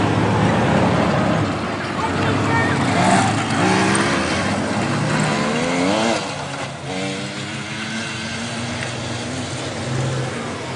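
Chevrolet Blazer 4x4 being driven produces a steady, loud engine drone with shifting pitch as it rolls along, mixed with people talking nearby.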